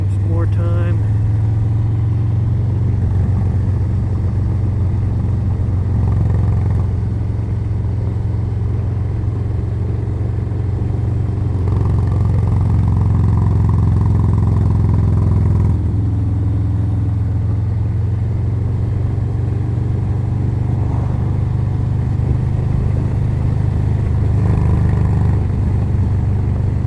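Harley-Davidson Low Rider motorcycle engine thrumming steadily at low pitch while riding through curves, with loud wind rush and a voice talking over it.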